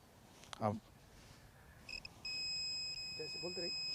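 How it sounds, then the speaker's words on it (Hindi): A social distancing alarm beeps steadily and continuously through the second half, a high tonal buzzer under brief bits of nearby speech. "अब आप देखिए कि अलार्म बीप करने लग गया"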